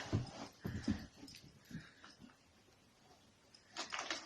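A dog whimpers softly in a quiet home, with a few faint, breathy whines and yips spread through the stretch, plus small scuffling noises.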